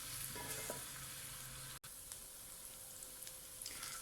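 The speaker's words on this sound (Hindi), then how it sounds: "ये लहसुन अदरक का पेस्ट फ्राई हो रहा है" Garlic ginger paste fries in hot oil, giving a steady close sizzle that is stirred now and then, with no talking over it.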